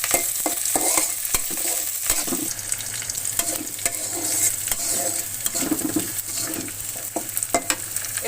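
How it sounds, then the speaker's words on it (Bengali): Green chilies, garlic and chopped onion sizzle in hot oil in a wok while a spatula scrapes and clinks against the pan in quick, irregular strokes over a constant frying hiss. "প্রথমে কড়াইয়ে তেল দিয়ে দিব, কাঁচামরিচ, রসুন আর পেঁয়াজ কুচি দিয়ে দিব। এবার এগুলো আমি একটু ভেজে নেব"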